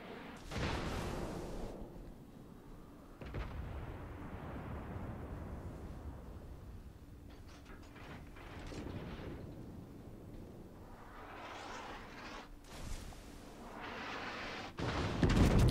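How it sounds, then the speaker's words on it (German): Naval artillery booms from the battleship Arizona in World of Warships, a few heavy distant salvos spaced seconds apart with rumbling tails over a quiet sea ambience. "jetzt wird hier aus dem Rauch rausgeschossen und er schießt mal da rein zurück"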